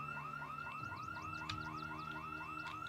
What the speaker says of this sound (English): We set off the house alarm of the house that I'm planning on staying in